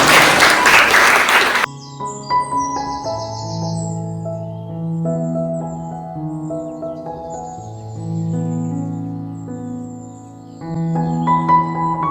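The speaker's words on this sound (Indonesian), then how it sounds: "Tepuk tangan untuk kita semua." A workshop audience claps in a brief, dense burst that cuts off abruptly, followed by a long stretch of steady tonal music with sustained notes.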